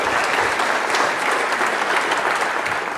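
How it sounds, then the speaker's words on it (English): Steady, dense applause from a conference audience for a group of ministers at a high-level closing session, loud and continuous throughout with no pauses. "A round of applause for the ministers, please."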